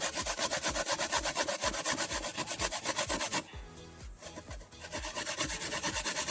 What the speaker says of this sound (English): So I grate the coconut to go in the soup.